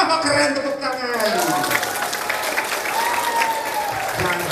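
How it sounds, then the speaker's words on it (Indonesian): An audience claps at a school seminar on preventing drug abuse and the dangers of smoking, with sustained, dense applause throughout and a voice speaking over it. "Oh, keren, tepuk tangan."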